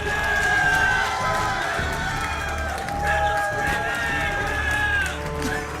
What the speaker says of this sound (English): Dude, crowd, you are awesome.